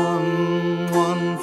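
An autoharp plays a hymn melody, strummed chords ringing steadily for a brief moment, close and alone with no talk.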